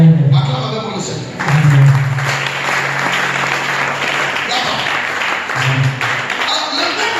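A church congregation applauds loudly during a Sunday family service, sustained clapping with crowd noise while a preacher's voice rises over it.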